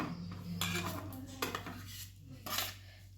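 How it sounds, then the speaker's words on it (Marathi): Ground sesame poured into a pan of melted jaggery for sesame-jaggery laddoos, heard as quiet clinks and scrapes of a utensil against the metal pan and bowl, close but faint, with no voices. "हे बारीक करून घेतलेलं तीळ आहे ते आपण यात ओतूया"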